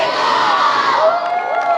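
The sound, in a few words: crowd of little league players yelling and cheering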